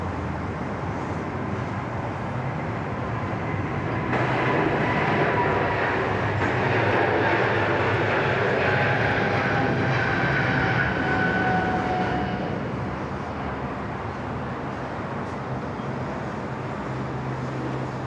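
A Qantas airliner landing on runway 34 left at Sydney Airport, a steady broad engine roar heard from the control tower area, rising slightly in the middle with a faint whining tone, no voices over it.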